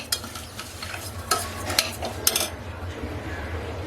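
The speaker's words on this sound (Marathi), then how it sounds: "आता तुपामध्ये छान भाजला पाहिजे" Semolina roasting in ghee in a pan, a soft steady sizzle under repeated metal spoon scrapes and clinks against the pan, the stirring easing off toward the end.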